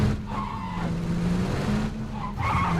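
In a video game, a car's tires skid and squeal loudly, with engine noise rising and falling in two or three bursts close by, heard without talk.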